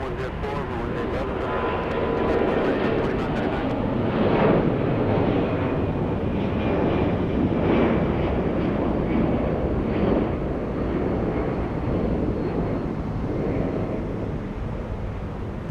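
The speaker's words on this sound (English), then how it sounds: "That's Delta 72 flying to Amsterdam. Big A350-900." A Delta Airbus A350-900 bound for Amsterdam roars steadily at Atlanta Hartsfield-Jackson airport, a broad continuous engine rumble, loud and sustained, with radio chatter and talk over it.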